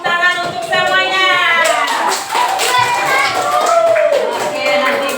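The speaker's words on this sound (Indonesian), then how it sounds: "tepuk tangan untuk semuanya" Schoolchildren in a third-grade classroom clap in a quick scattered patter, largely buried under loud, overlapping, excited children's voices.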